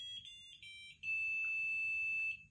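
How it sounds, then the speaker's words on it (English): REM pod ghost-hunting device sounding its alarm: several short high electronic beeps, then a steady piercing tone held for over a second before cutting off, over faint low background noise. "if you go close to the REM pod here, it will make a sound"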